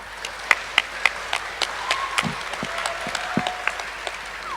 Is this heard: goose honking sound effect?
no